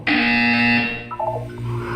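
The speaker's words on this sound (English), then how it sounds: "You will hear a buzzer." A harsh electronic buzzer sounds loudly for under a second, then fades into a lingering hum and faint tones.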